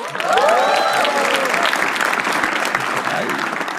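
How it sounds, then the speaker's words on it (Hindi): Audience applause at a live comedy roast show, a loud continuous burst of clapping from a crowd with some cheering and a whistle-like squeal rising early on, holding steady to the end. "उनके लिए तालियां प्लीज"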